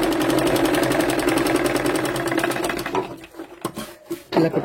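A sewing machine stitches blouse fabric in a fast, even rapid-fire chatter for about three seconds, then stops, leaving a few quieter clicks and handling sounds.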